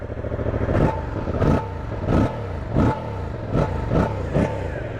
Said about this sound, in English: let's start this bike up and see how it sounds